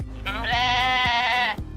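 A comedic goat bleat sound effect from a Korean TV series plays loud and close as one wavering, nasal cry lasting just over a second, with a low background bed beneath it.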